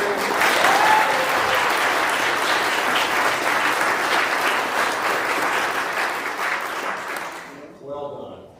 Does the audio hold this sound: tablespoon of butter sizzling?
no